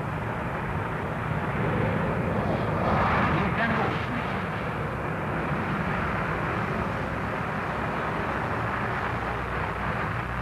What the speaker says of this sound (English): Beautiful takeoff. Climbing steeply, reheat still on, I can see.